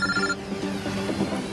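A mobile phone rings inside a car, an electronic ringtone with a bright repeating tone at first, then the ringing carries on fainter under the road noise.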